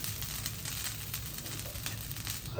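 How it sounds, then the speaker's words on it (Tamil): Cleaned drumstick leaves dry roasting in a pan, a soft steady crackle and sizzle with faint stirring, close and quiet with no talk. "இப்போ நம்ம சுத்தம் பண்ணி வச்சுருக்கிற இந்த முருங்கீரையை இது கூட நல்லா முருகலாக வறுத்துக்கலாம்"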